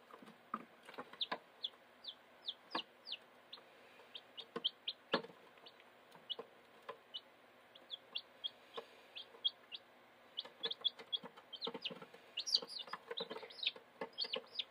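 Baby chicks chasing a laser pointer let out a steady stream of high, sharp peeps and chirps, some single and some in quick clusters, fairly close and lively, with no voices.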